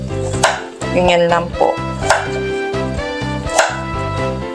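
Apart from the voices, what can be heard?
chopping carrots with a knife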